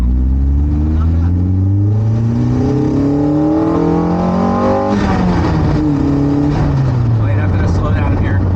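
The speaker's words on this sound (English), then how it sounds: "You guys like the sound of a Honda VTEC getting into VTEC?" A Honda VTEC engine swapped into a classic Mini Cooper revs hard through the gears, its rising pitch sweeping up loud and close, with a gear change partway through and a voice speaking over it.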